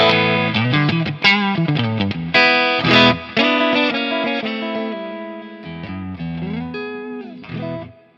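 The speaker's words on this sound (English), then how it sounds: "Nice kind of big hall reverb" Electric guitar phrases ring out with a big hall reverb from a Line 6 HX FX dynamic hall setting, notes blooming and trailing off into a spacious wash between runs.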